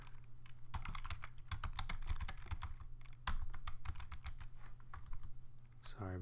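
Rapid clattering of computer keyboard keys, a steady burst of typing with a brief pause midway, close to the mic over a low hum.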